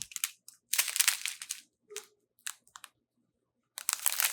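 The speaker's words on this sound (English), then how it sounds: "I apologize for the rustling noise." Plastic bags of diamond painting drills rustle and crinkle in several short bursts with brief silent gaps between them, close up and fairly loud.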